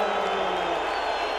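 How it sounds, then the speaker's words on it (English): An Italian crowd at the 2017 San Marino MotoGP reacts to Marc Márquez's win with a loud, sustained, even roar of many voices. "what sort of reception is Marc Márquez going to get from the Italian crowd after his fourth win of the season?"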